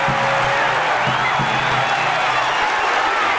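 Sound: arena crowd applause

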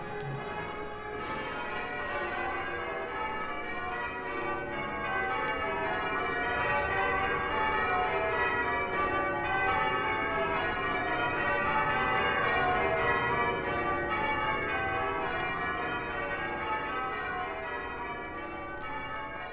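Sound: church bells of Westminster Abbey ringing

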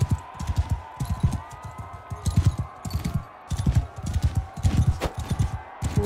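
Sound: horse hooves galloping in a video game

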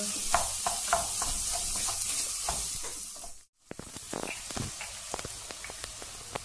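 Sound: stirring black pepper and chili flakes in pan

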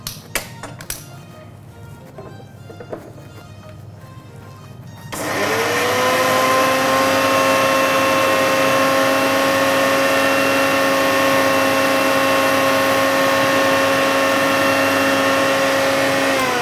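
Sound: blender grinding spinach

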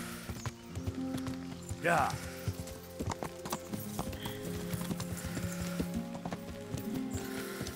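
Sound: horse hooves while riding in video game Kingdom Come: Deliverance

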